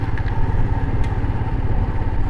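Motorcycles, Royal Enfield Himalayans among them, rumble along a mountain road in North Sikkim, a steady loud engine drone with a brief clatter partway through.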